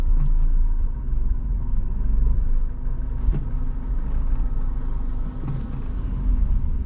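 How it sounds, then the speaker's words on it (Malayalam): A car creeps slowly forward in city traffic, its steady low engine rumble and road noise continuous and close with no talking. "മെല്ലെ വാഹനം മുന്നോട്ടെടുക്കുന്നു."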